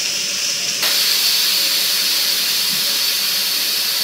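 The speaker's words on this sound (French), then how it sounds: "Après, je vais évacuer toute la vapeur." Steady, loud hiss of steam venting, jumping louder after a moment and then holding constant and close.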